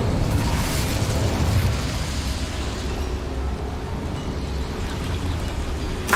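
A sustained roaring burst of flame from the Incendio fire spell in the video game Hogwarts Legacy, loud and continuous for several seconds with no voices.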